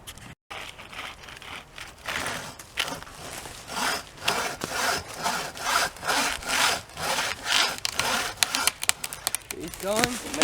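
A hand saw works through a small tree trunk in steady back-and-forth strokes, each pass a close, rasping pulse in a regular rhythm.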